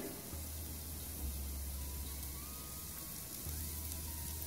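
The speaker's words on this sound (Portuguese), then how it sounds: "E vou deixar fritar." Finely chopped large onion fries in a pan for shrimp risotto, a soft steady sizzle like light rain, quiet and continuous beneath a low hum, no talk.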